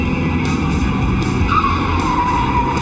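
Car tires skid and squeal as a vehicle slides around a bend, a loud, continuous rough roar with a rising squeal partway through and no voices.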